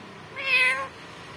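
An Indian ringneck parrot imitating a cat, giving a single clear meow-like call that rises and falls over about half a second, alone against a quiet room.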